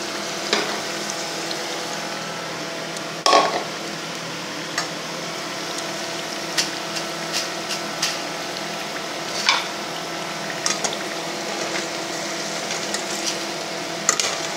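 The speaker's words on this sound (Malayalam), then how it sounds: "ഈ തിളയൊക്കെ അങ്ങ് കുറഞ്ഞു വരുമ്പോൾ നമുക്കിത് വാങ്ങാം." Banana chips frying in hot oil, a steady close bubbling sizzle that runs throughout with occasional clinks and scrapes of a utensil in the pan.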